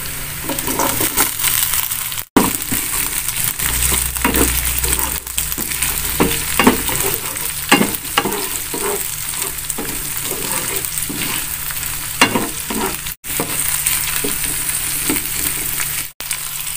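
Chili sautéing in a hot pan, a continuous close sizzle with repeated scraping and clattering stirs throughout, a low rumble partway through, and a few brief dropouts, with no voices.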